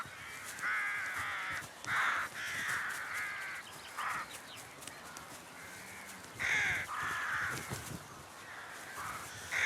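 Rooks cawing repeatedly over a meadow of blossoms, harsh calls in several bursts, some loud and close, others fainter, against a steady background of outdoor ambience.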